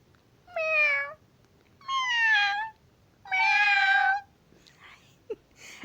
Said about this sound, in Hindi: ये म्याऊं म्याऊं करके तो मेरा दिमाग खराब हो जाएगा